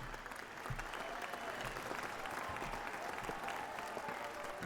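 Applause sound effect from the horror video game Employee of the Month, a dense, steady burst of clapping that runs evenly for several seconds, fairly faint in the mix.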